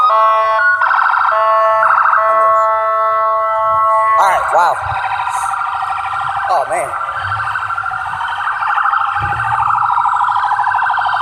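Loud ambulance siren wailing and yelping nearby, its tone sweeping up and down, while a person exclaims over it.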